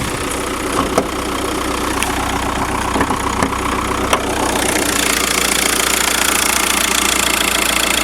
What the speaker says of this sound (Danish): Motoren spinner jo som en mis.